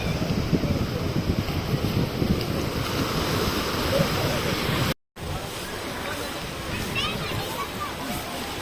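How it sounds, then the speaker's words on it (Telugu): Ocean waves rolling in and breaking on a beach in Goa, a steady broad wash of surf mixed with wind rumble, near and continuous, briefly cut out midway. "సో ఈ బీచ్ అయితే చాలా బాగుంటుంది, చూడండి ఒకసారి ఎంత బాగా వస్తున్నాయో వేవ్స్"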